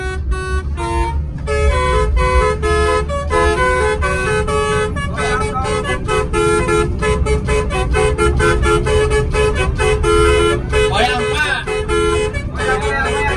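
Loud telolet bus horn playing a remix, a long run of steady melodic toots in a rhythmic tune, continuous and close, with road vehicle noise underneath.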